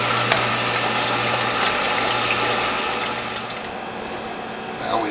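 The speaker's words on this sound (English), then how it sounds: "And again, very carefully, pour the cantaloupe juice." Cantaloupe juice is poured from a front-loading Whole Health Foundation juicer, giving a close trickling, splashing flow with light mechanical clicks and rattles, then tapering off near the end.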